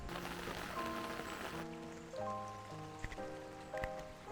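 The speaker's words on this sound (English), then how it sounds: "It is raining a good amount. Cats and dogs." Quiet, steady patter of rain falling, with faint tonal hums and a few soft taps in the background.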